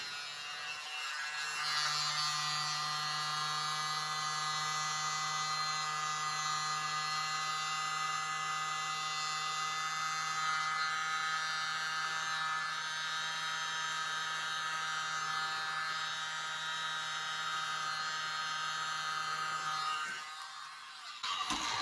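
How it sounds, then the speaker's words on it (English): A mini blower runs over an acrylic paint pour, giving a steady, close electric buzz that holds almost unbroken for around twenty seconds before cutting off. "Use my mini blower this time."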